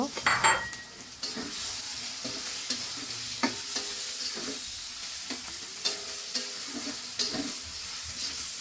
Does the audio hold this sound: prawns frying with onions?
yes